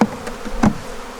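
Honey bees buzzing as they are installed in a hive, with a close insect drone and a few sharper buzzing swells passing near, and no speech.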